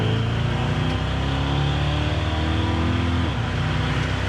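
A lowered 1968 Chevrolet Chevelle's engine drones loudly and steadily, then its pitch drops sharply as the transmission shifts gear before settling into a steady pull, with no voices.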